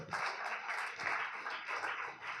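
A church congregation clapping loudly in rhythm, steady rounds of many hands beating together, close and continuous with no voices.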